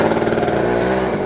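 A Poulan Micro XXV 25 chainsaw engine sputters to life during a starting attempt, a loud, close, steady two-stroke buzz with dense harmonics that holds without a break.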